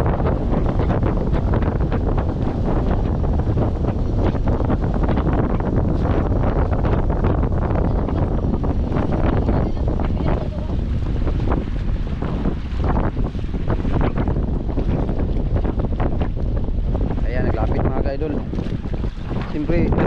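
A small wooden outrigger boat on open water, heard amid heavy wind buffeting the microphone and a constant rush of waves, loud and unbroken throughout, with voices faintly talking.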